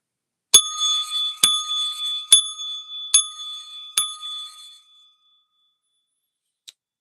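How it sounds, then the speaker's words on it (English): A bicycle-style bell dings five times in a quick, evenly spaced series, each bright ring lingering briefly before the next, then fades to silence with one faint tap afterward. "The bell has rung, guys."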